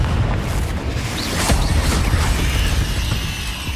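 A Confringo fire spell explodes in the video game Hogwarts Legacy: a loud, sustained booming blast with a rumbling, crackling roar that fills the whole moment without pause.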